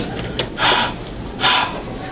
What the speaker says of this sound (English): all she heard was heavy breathing